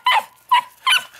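A ten-week-old miniature pocket beagle puppy gives three short, high yips in quick succession, close and fairly loud with no other sound around them.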